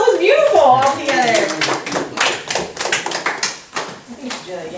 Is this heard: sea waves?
no